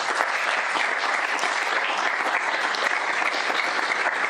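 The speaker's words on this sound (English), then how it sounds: "give them a round of applause." Applause rises from the audience at a high-level academic conference for the panelists, dense even clapping sustained at a steady level from start to end with no talk over it.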